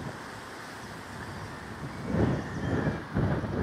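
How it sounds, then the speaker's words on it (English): Gusty wind buffets the microphone outdoors beside a medieval castle in Glasgow, Scotland, a steady low rumble swelling into two louder bursts near the end, with no voices. "It is a bit windy, so apologies."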